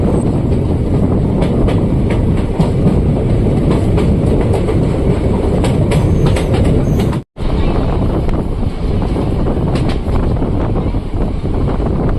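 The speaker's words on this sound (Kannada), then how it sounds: "ನಮ್ಮನ್ನು ಕ್ರಾಸ್ ಮಾಡ್ತಿದೆ zero seven three double six ಈ ಟ್ರೈನ್" Train 07366 on the Shivamogga–Mysore line rumbles past close by near Tarikere station, with steady clattering wheels and rushing wind noise, the roar continuing throughout with a brief dropout partway.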